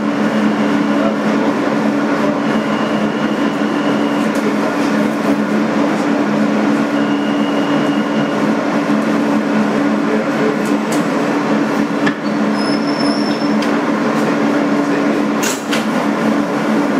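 A 2008 Kawasaki R-160B subway car on the BMT Sea Beach N local hums and rumbles steadily from inside, with a constant motor drone, faint clicks over the rails and a couple of brief high squeals.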